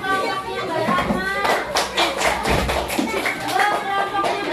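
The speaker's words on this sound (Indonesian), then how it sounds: "Tepuk tangan kelompoknya Mbak Rahma." A class of children claps for a group of classmates, the claps coming in a quick uneven burst and building in density, mixed with chatter from the room.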